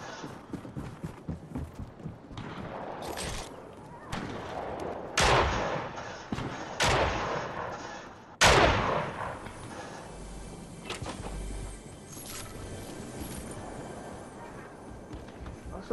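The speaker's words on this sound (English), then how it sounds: "I shot this dude three times with a shotgun" Repeated shotgun blasts in a battle-royale video game, several sharp loud reports spaced unevenly over continuous game noise and chatter, with people talking throughout.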